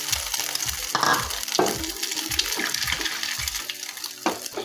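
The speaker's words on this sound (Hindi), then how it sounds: "मैं इसको एक एक करके फ्राई पैन के अंदर डालूंगी" An egg-dipped aloo sandwich fries in a pan with steady, close sizzling and bubbling, broken by several soft scraping and clinking thuds of a utensil against the pan.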